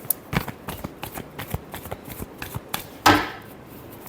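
Tarot cards being shuffled by hand: a run of quick, close, papery taps and riffles, ending in a louder snap as the deck settles.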